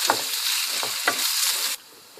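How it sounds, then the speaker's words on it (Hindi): Chopped dates fry in ghee in a pan for date laddoos, giving a close, steady sizzle broken by several sharp stirring scrapes. The sizzle cuts off abruptly near the end. "अब मैं इसमें खजूरें डाल के थोड़ा सा इसको फ्राई करूँगी"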